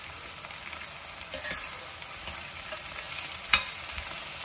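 Curry leaves hit hot oil in a pan and crackle, a constant close sizzle with occasional scrapes of stirring and a sharper pop near the end.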